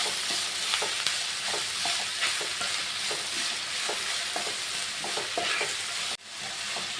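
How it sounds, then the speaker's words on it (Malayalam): Sliced onions stirred as they fry in a pan for a Kerala-style onion curry, a continuous close sizzle broken by regular soft scrapes of a spoon, with a brief drop in sound near the end. "സവാള ഒന്ന് വഴന്ന് വരുന്നിടം വരെ ഇളക്കി കൊടുക്കണം"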